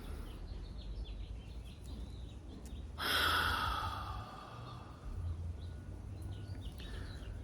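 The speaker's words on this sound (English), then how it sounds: "take a breath with me." A person draws one slow, deep breath close to the microphone and releases it over about two seconds. The breath stands out against quiet background noise.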